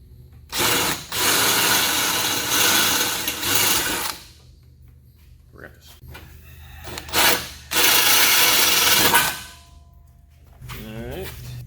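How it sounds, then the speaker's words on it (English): A power drill bores holes through metal for a headlight mount on a riding mower. Two loud, sustained bursts of several seconds each are separated by clanks and handling noise, and a brief quieter whir comes at the end. "Got my 2 holes drilled."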